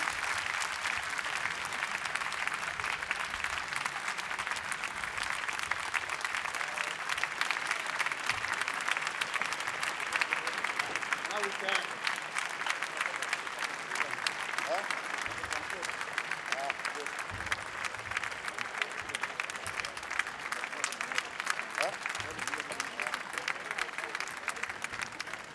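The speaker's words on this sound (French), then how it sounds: "M. Kenyatta, que je vous demande d'applaudir aussi." Sustained applause from a large conference audience at BIG 2020 in Paris for the presidents of France and Kenya, a dense, even wash of many hands clapping that holds steady throughout.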